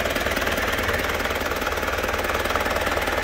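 An Isuzu Panther LS Turbo diesel engine runs close by, giving a loud, rapid and steady knocking clatter that repeats evenly without pause and has no talking over it.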